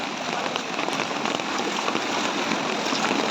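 Floodwater from the Sapua river flowing through a village in Dhenkanal, overtopping a bridge, heard as a dense, steady wash of rushing water, continuous and fairly loud without voices.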